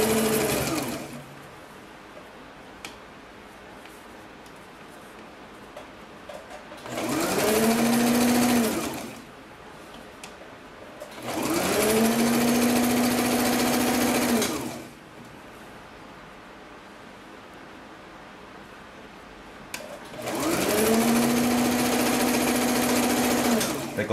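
A domestic home sewing machine runs a medium zigzag stitch along a hem on a girl's long boxer. It plays in three or four distinct bursts of steady whirring, each a few seconds long, separated by quieter pauses with some speech.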